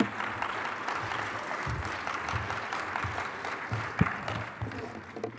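Audience applause at a plenary session on agriculture, a sustained, moderately distant wash of many hands clapping that tapers slightly toward the end.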